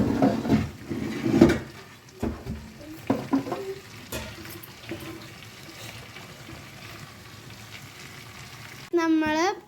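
Sliced onion fries with ginger and garlic in a pan for chili chicken, a continuous sizzle with stirring clatter and scrapes, loudest at first, then a steady fry before a short whistling squeal at the end.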